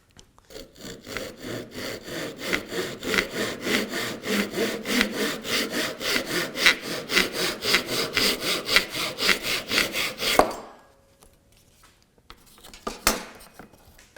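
A hand saw cuts through wood for a small jewelry box, making about twenty rapid, even back-and-forth rasping strokes close up. The sawing stops abruptly, leaving near silence and a few faint knocks.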